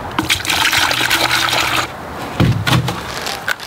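Liquid fertilizer pours steadily into a measuring pitcher for about two seconds, a continuous close gushing trickle, then a brief second splash of liquid follows after a short pause.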